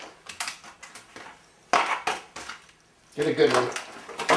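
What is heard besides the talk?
cracking an egg into a glass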